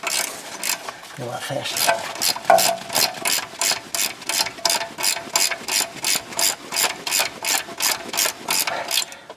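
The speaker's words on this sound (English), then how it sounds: "See if I can get a ratchet wrench in there." A ratchet wrench clicks rapidly and steadily while loosening a bolt on the upper control arm of a 2010 Chevrolet Silverado, a close, even train of metallic ratcheting with a brief spoken remark partway through.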